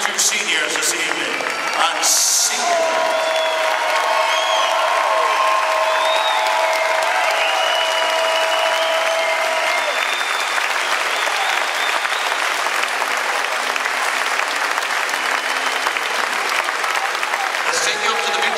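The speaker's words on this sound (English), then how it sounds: "Nice round of applause for your two seniors this evening." Sustained applause from an arena crowd at a University of Houston men's basketball senior night, honoring two seniors; steady, loud clapping fills the space with scattered cheers and an announcer's voice over it.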